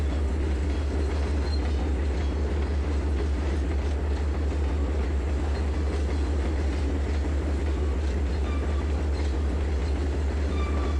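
In the Trainz 2022 railway simulation game, a train runs over rails with a continuous low rumble and faint clicking wheels, steady and fairly loud throughout.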